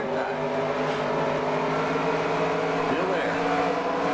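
Pack of race car engines in NASCAR Racing 2003 at Rockingham, a steady, loud droning roar with layered harmonic whines from many cars running close together, held throughout with slight pitch shifts.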